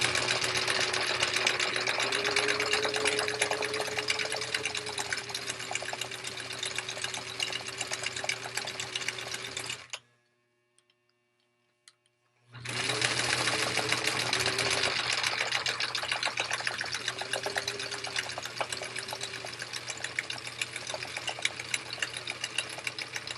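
A sewing machine stitches tote bag straps in a steady, close mechanical whir, pausing for about two seconds midway before resuming the same continuous run.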